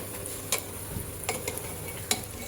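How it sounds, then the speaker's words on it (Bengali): Chicken sizzles in oil in a pan, a continuous frying hiss broken by a few sharp scrapes and clinks of stirring. "এখন মুরগিটা ভালো করে কষিয়ে নিব।"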